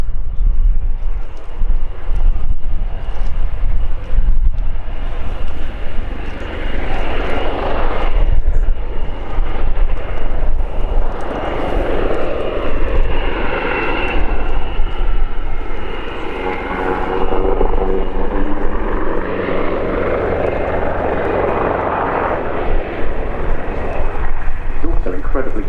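An AgustaWestland AW149 helicopter performs a flying display at the RIAT airshow, its rotor and engine droning continuously and swelling as it passes, while a commentator talks over it.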